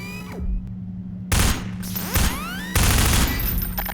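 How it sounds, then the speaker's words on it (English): Firearm shots at a training device in the video game Half-Life, with loud close bursts of rapid gunfire separated by short pauses, under a steady low electronic hum and with whirring mechanical sweeps between bursts. "Now, take out the firearm of your choice and shoot the device."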